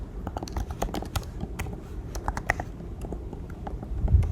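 Steady typing on a computer keyboard during a programming lesson, with close, crisp, irregular key taps running throughout and no voice over them.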